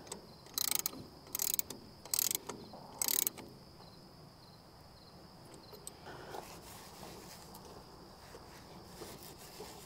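A ratchet tightening the top bolt of the oil filter on a Ford 8N tractor, four short, crisp clicking bursts close by in quick succession, followed by faint background noise.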